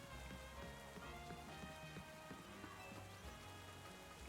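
Rain in the video game Pokémon Legends Z-A patters steadily on surfaces, a soft, continuous spatter of drops with no voices.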